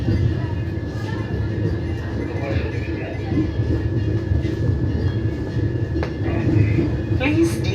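The Vande Bharat Express, train 20674, pulls into Sangli station with a continuous low rumble of rolling wagons and faint rail clatter, while station announcements and voices carry over the noise.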